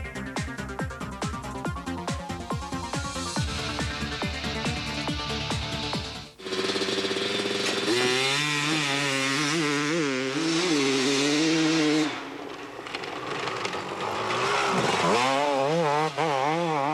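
Motocross motorcycle engine revving hard, buzzing and pulsing at high pitch, then dropping briefly as the rider shifts gears before climbing again in rising and falling waves, loud and close.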